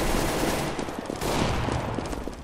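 A decoy grenade in Counter-Strike fires off a rapid burst of fake gunfire, loud and continuous for the whole moment with a brief dip midway.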